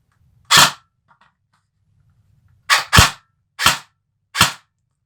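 G&G CM16 airsoft gun fired on semi-automatic indoors in a small room: five sharp, dry cracks, one alone then four in quick succession with short irregular gaps, loud and close with quiet between.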